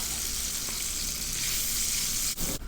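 Salted egg frying in a mix of butter and oil, a dense, loud, continuous sizzle heard up close with no talking, briefly dipping near the end.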